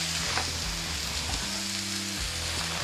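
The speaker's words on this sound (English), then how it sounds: "Just keep moving these onions and peppers around. Starting to get a little bit of brown on them" Onions and peppers for a cheese steak sizzling steadily in a frying pan as they brown, a dense close hiss under a low hum, with no talking.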